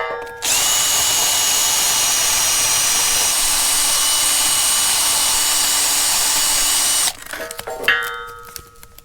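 A power wire brush scours the nut and lock-washer seats on a Caterpillar D2 crawler track link, a loud, steady, high whir running about six seconds before cutting off into a few scattered metallic clanks.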